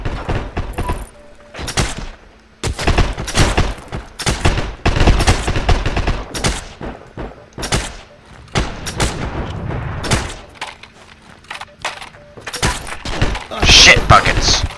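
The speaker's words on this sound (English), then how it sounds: "You got two people firing at you." Gunfire in the video game Heroes and Generals, with rapid bursts and single shots firing close and loud almost continuously, some heavy thuds mixed in, and voices talking over the battle.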